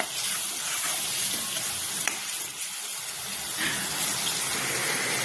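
Turmeric and chilli powder frying in a pan of spices for khichuri, with a steady broadband sizzle and a little stirring throughout, close and continuous with no talk.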